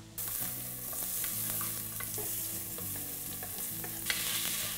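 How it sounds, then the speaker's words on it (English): Shallots fry in coconut oil in a pot over medium heat, giving a continuous moderate sizzle with occasional light crackles and one sharp tap. A faint steady hum sits underneath. "So I'll cook the shallots for around 1 to 2 minutes, just until they start to soften"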